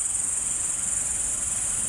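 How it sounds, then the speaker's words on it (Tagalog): Insects chirp steadily at night in a Philippine outdoor setting, a dense, continuous high-pitched cricket trill holding at even loudness throughout, with a faint low rumble beneath and no talking. "Yung ingay ng mga insekto dito"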